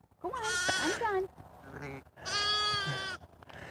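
Newborn Katahdin hair sheep lambs bleat twice, close and loud, each wavering cry lasting about a second, with soft rustling between them.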